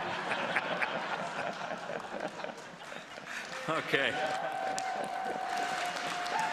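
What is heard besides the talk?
debate audience applause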